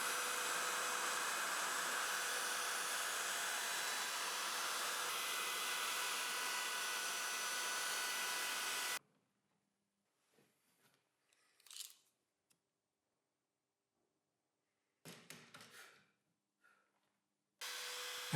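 Router milling a circle with a circle jig on a cheap base plate, a loud steady high whine for about nine seconds, then silence with a few faint clicks and brief bursts as the motor stops and restarts.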